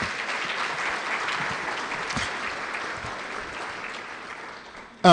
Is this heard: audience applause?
yes